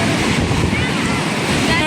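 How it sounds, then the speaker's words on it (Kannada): Ocean waves break on the beach at Gokarna in a steady, loud, close wash of surf, with wind buffeting the microphone throughout. "ನೋಡಿ ಅಲೆ ಎಲ್ಲ ಹೆಂಗೆ ಬರ್ತಾ ಇದೆ"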